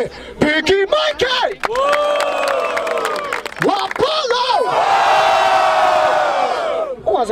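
A rap battle crowd at Batalha da Aldeia in Barueri roars for a rapper, loud sustained cheering and shouted whoops that swell into a long, massed yell, with a host's voice cutting through near the start.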